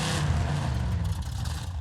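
A monster truck engine revving in the Monster Truck Championship video game, a steady loud low rumble with a slight rise and fall, no voices over it.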